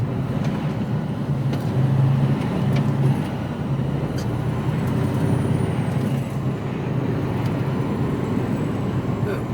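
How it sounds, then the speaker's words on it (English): Road traffic from a truck cab on a narrow UK road, with a bus passing close by as a steady engine rumble that swells briefly mid-clip, a faint air-brake hiss, and continuous cab noise throughout. "There's a bus."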